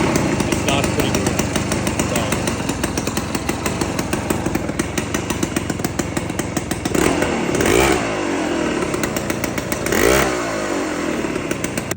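A two-stroke Honda motorcycle engine idles after a kick start, a loud, close, fast-popping putter with a couple of brief throttle blips, while a voice talks over it.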